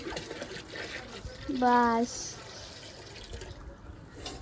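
Water runs steadily into a bucket at home, a continuous low splashing wash beneath the scene, with a short spoken word near the middle.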